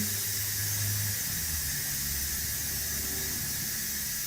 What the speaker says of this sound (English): Let the steam come out